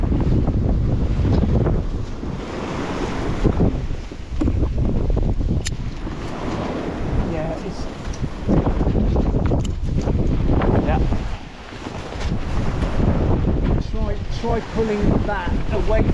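Strong squall wind buffets a sailboat crossing the Irish Sea, roaring loud and continuous across the microphone with waves and rushing water beneath, easing briefly before gusting back.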